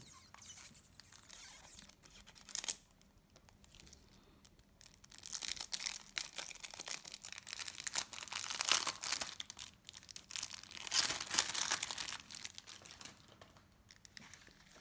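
Close crinkling and tearing of plastic wrapping on a Magic: The Gathering Commander card deck, bursts of crackle with short pauses, quiet overall.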